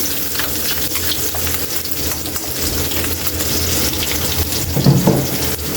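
Ginger and garlic sauté in a pan, giving a loud, steady hiss with a low hum underneath and a brief clatter near the end, with no talking.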